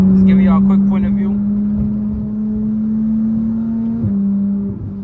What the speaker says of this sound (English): driving the Porsche 911